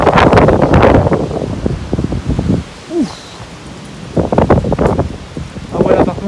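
Gusty wind from a supercell thunderstorm near Bordeaux roars in surges against the microphone, with loud bursts separated by quieter lulls and a brief faint tone in the middle.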